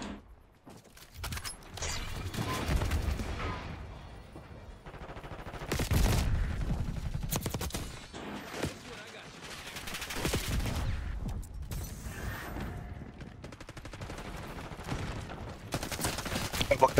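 Gunfire from Call of Duty Black Ops 6 in beta rattles in repeated bursts and single cracks, loud and close, with mechanical clicks between volleys and no talking.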